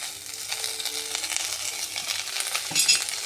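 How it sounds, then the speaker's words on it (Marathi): Ginger, garlic, onion and dried coconut roast in oil in a pan, a close sizzling hiss broken by scraping stirs and light clinks from a utensil. "आला लसूण आणि कांदा तीनही एकत्र टाकून चांगले भाजून घेतले आणि त्यानंतर त्यात खोबरा टाकून"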